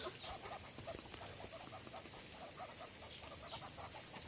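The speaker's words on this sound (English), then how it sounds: "Oh, he's a rooster." A large rooster among chickens in Palmerston North, giving repeated soft clucks and low calls in short bursts, close but faint under a steady hiss.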